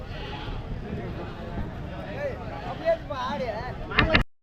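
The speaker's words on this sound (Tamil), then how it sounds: "ஸோ வெள்ளாடு செம்மறி ஆடு எல்லாம் சேர்த்து நல்லா செனாடு கூட இருக்குங்க" Goats and sheep bleating at a busy Monday livestock market in Natrampalli, several wavering bleats rising over crowd chatter and nearby talk, ending in a sharp knock.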